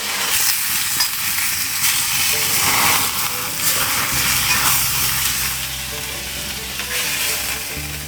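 Rump steak hisses and spits in a hot pan after a splash of beer hits it, a loud, close, continuous sizzle that holds steady for the whole stretch with a low hum joining partway through, and no talking over it.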